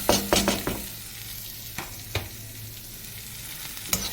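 Chopped onion and green chili hit hot oil with curry leaves for upma, sizzling steadily in the pan while a utensil scrapes and stirs in a few sharp clusters, close and moderately loud.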